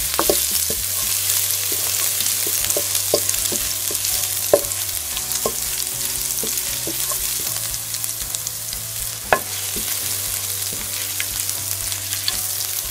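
Steady sizzling of garlic frying in a pan, with occasional light clinks and scrapes of stirring close up.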